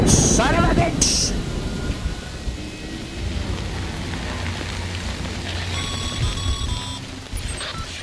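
Steady rain in the video game Death Stranding hisses evenly throughout, with brief beeping tones and a few sharp bursts near the start and near the end.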